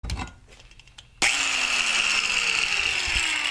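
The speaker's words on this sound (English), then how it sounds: "So I'm actually have to use a grinder sometime to get that the rest of the way out" An angle grinder spins up abruptly and cuts into the metal hood latch of a Nissan 350Z, holding a loud, close, steady high-pitched whine after a brief quieter stretch of handling noises.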